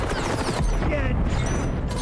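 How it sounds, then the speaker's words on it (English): Impact grenades explode in the shooter video game XDefiant, with sharp bursts and clattering booms mixed into busy gunfire under a voice talking. "Oh, the fucking impact grenades."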